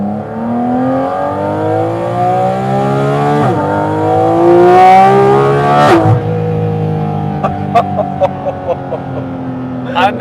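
Porsche 718 Cayman GT4 RS engine heard from the cabin, revving loudly toward its 9,000 rpm redline in repeated rising pulls with sharp gear-change breaks, then settling into a lower drone marked by short crackling bursts.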